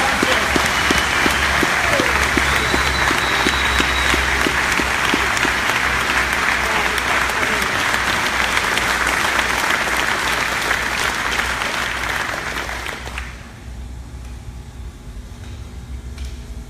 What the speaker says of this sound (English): Let's give every team a round of applause